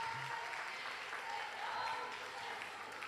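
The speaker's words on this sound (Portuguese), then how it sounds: "Eu gostaria que os irmãos aplaudissem e recebessem eles." A church congregation applauds in a steady, moderately distant wash of clapping, with faint voices and a brief low tone mixed underneath.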